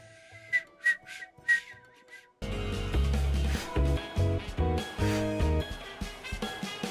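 A character in Final Fantasy XIV whistles a few short tuneful notes, then game music with deep bass and sustained tones enters and continues under further whistling.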